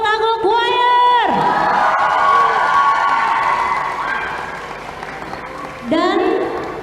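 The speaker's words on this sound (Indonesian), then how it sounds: "Sekali lagi tepuk tangan untuk Omino Tago Choir." A large audience cheers, whoops and applauds for a choir after a prize announcement at a choir competition in Makassar. The crowd noise is loud and sustained, with a brief dip before swelling again, and a singing or chanting voice rises over it near the start and end.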